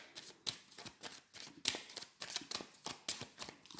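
Tarot cards are flipped and shuffled in a quick irregular series of crisp papery slaps and flutters, close and fairly quiet, with no speech.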